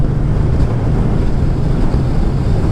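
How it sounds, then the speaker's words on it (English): Heavy wind buffets the microphone on a ride with a Royal Enfield Meteor 350, a loud, steady low rumble filling the whole stretch with no voices. "I look forward to this bloody wind disappearing."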